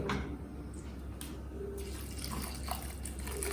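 Hot water poured steadily into a pot of multigrain khichdi, a continuous close splashing gurgle with a few brief shifts in flow, no talking.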